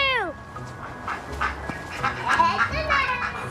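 Two ducks quack in a few short nasal bursts, mixed with people talking nearby.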